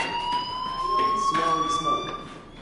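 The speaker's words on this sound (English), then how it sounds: "do you hear that fire alarm? That means you should be outside." Fire alarm ringing in the video game Life is Strange, a steady high electronic tone with harmonics sounding continuously at moderate loudness over faint background noise and voices.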